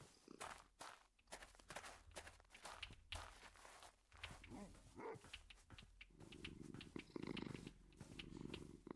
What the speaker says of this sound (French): Il ronronne, il est content